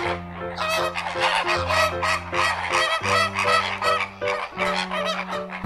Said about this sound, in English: Hey, look at these fabulous flamboyant flamingos.